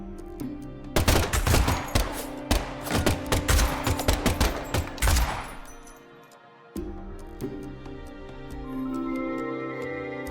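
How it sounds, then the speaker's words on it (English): Gunfire in the video game Deadly Premonition 2, a rapid volley of loud sharp shots with clinking over several seconds, then silence before an ambient game tone hums on. "the last gunshot we heard sounded ominous, Zack."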